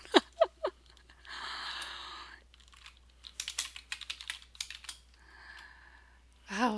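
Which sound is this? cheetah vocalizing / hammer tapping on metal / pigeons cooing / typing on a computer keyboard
typing on a computer keyboard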